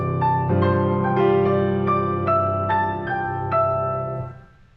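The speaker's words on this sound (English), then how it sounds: "The tricky part is playing the 5/3 polyrhythm properly, which should sound like this." Solo piano playing from Scriabin's Op. 11 No. 1, working through a 5-against-3 polyrhythm as clear repeated note attacks over a sustained low register, loud and close, then fading out at the end.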